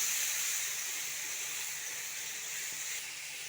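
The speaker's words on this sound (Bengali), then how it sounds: "অল্প একটু জল দিয়ে আমি মশলাটাকে আবারও ভালো করে কষিয়ে নেব।" Spice masala with turmeric, moistened with a splash of water and fried for a chickpea curry, sizzles in a steady, soft, even hiss with no talking.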